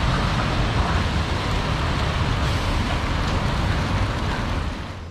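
Steady, dense rain hisses continuously at close range in an outdoor setting near Bassano del Grappa, Italy, a broad even wash of sound with no pauses and no talking.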